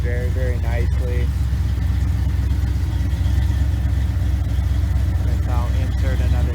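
A Ford Ranger pickup fitted with a 302 V8 engine and a solid axle swap drives along, its steady low engine drone and road rumble filling the cab, with brief tonal squeaks near the start and end.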